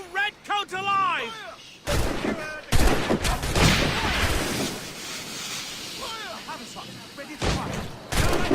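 Gunfire and loud booming volleys in the Xbox 360 game Assassin's Creed Rogue, dense bursts of shots and explosions filling the scene, with game character voices shouting in between.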